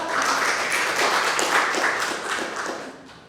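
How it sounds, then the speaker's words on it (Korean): An audience at a tenth-anniversary lecture event applauds to welcome a speaker, a dense, steady wash of clapping that stays fairly loud throughout and fades slightly at the close. "여러분 아까보다 더 큰 박수로 맞이해 주시겠습니다."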